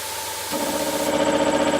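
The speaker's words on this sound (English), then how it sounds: "you'll hear the pump starting up again" An Ash Air cast iron 3HP piston compressor pump starts up. A steady hiss of escaping air gives way, about half a second in, to a loud, continuous motor hum and mechanical drone that keeps running to the end, with no talk.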